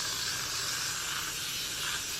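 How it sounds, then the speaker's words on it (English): A steady close hiss of hair spray misting onto the edges of the hairline, continuous and even for a couple of seconds with no pauses or talking. "Spray your edges."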